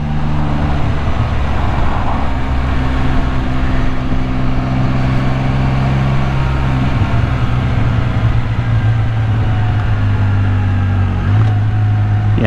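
A Can-Am Spyder F3 three-wheeled motorcycle rides along with a constant loud engine drone and heavy wind rush, the engine pitch rising steadily toward the end.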